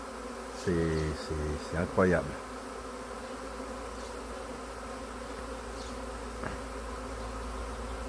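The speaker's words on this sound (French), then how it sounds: "il reste 200 abeilles en vol" A swarm of honey bees, around two hundred still in the air, arriving at a hive, makes a steady close buzzing drone throughout, while a voice speaks briefly near the start.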